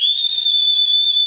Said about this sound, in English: So what's your whistle blowing capacity?